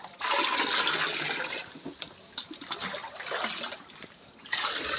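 Floodwater from a typhoon rushes and gushes steadily into a house, loud and close, with brief dips and surges in its flow.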